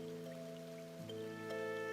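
Rain falling in the video game My Sticker Book, a soft steady patter with light drips under tonal game music, fairly quiet and even throughout.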